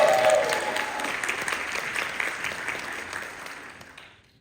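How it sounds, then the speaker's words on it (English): A crowd at a Carolinas Circle K International district convention breaks into loud applause that holds steady and then fades to silence near the end. "Round of applause for Ms."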